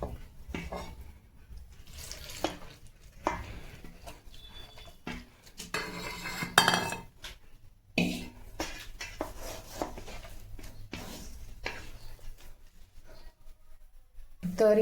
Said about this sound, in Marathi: आणि पाणी टाकून मळून घ्यायचं आहे पीठ